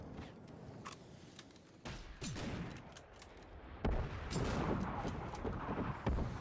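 Artillery rifle gunfire in Generation Zero: several sharp, loud shots crack at irregular intervals over a rumbling game backdrop, some with heavy booming echoes and a short burst near the end.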